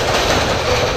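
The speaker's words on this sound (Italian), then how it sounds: "Passa il treno" A train rolls past a quiet fishing spot, giving a steady, loud rail rumble that fills the whole second with no break or other sound.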